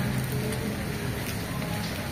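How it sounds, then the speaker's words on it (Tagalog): Steady rain falling in Arroceros Park, an urban forest park in Manila, a continuous even hiss of drops on leaves and surfaces, moderately loud with no voices. "Kahit umuulan."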